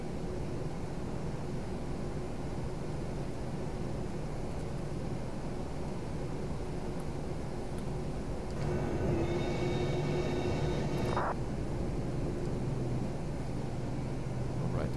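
Idling airliner engines in Flight Simulator X make a steady broadband rumble before taxiing, and a brief whining tone with harmonics rises midway, then cuts off.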